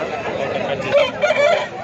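A rooster's crow cuts through a dense crowd murmur at a Sunday poultry market, a few short rising notes over steady background chatter.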